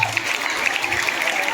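An audience at a school farewell ceremony for a teacher claps after a song, a steady wash of applause through the whole short stretch with a faint murmur under it.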